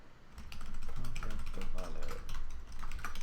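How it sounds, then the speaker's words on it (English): Rapid clatter of fingers typing on a computer keyboard, continuous uneven keystrokes close to the microphone, with background talk mixed in. "I'm typing away like an accountant."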